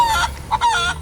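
Large Brahma chickens in a backyard coop, a few close, loud honking clucks and squawks in quick succession.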